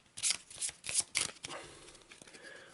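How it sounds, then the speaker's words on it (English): A deck of cards from the Arkham Horror board game being shuffled up close, several quick riffling bursts of crisp papery flutter followed by softer settling rustles. "And a bit of shuffle."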